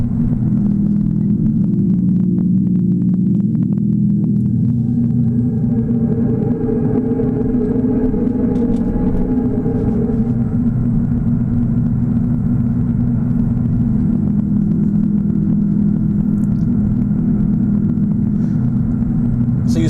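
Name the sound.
Tesla external speaker playing Predator sound effect while driving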